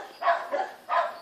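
A dog barks three times in quick succession, fairly close and moderately loud, with short pauses between the barks in an outdoor setting.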